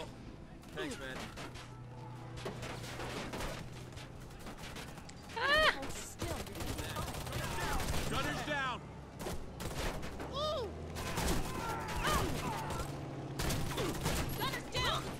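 Gunfire bursts and scattered shots in the video game Warface, rattling through a busy firefight under ongoing game voices and chatter, with a sharper loud burst near the middle.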